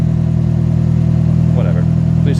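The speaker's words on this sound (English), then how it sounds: "Definitely got an exhaust leak. You hear the tickiness?" A turbocharged car engine idles with a steady low drone while an exhaust leak near the header or turbo adds a light ticking, close up.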